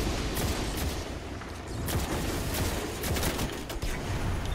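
Rapid gunfire from the Jade Rabbit exotic scout rifle in Destiny, loud and dense, with repeated sharp shots packed close together and overlapping across the whole stretch with no pause and no talk.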